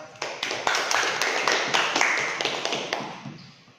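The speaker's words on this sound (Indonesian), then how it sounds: "Tepuk tangan untuk kelompok 1." A classroom group claps for fellow students after a presentation, a few seconds of distinct, fairly close hand claps in a loose rhythm that thins out and fades at the end.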